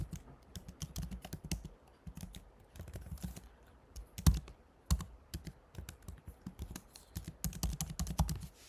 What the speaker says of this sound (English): In that case, I'll type it again.